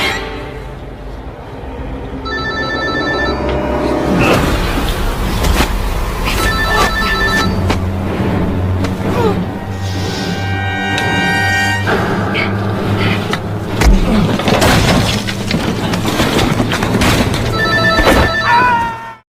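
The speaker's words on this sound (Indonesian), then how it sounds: "Ketika John ingin mengangkat telepon dari Ellie" A telephone rings repeatedly in short bursts within an action film scene, surrounded by loud music, crashes and struggle sounds that mask it in places.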